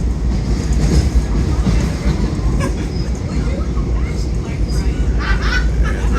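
Long Island Rail Road train running through the East River tunnel toward Penn Station, a loud continuous low rumble with rattling and wheel clatter, heard from inside the car.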